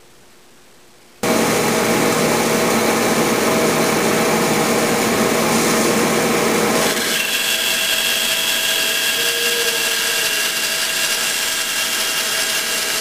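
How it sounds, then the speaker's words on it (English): A bandsaw starts up and cuts wedge slots in wooden tenons for a veneered sideboard's leg stretcher, giving a loud, steady whine and broadband rasp that shifts in tone partway through as the blade works the wood, with no talk. "I'll just show you how I cut these slots in the tenons for the wedges using the bandsaw."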